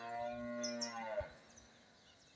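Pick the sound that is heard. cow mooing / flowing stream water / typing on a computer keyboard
cow mooing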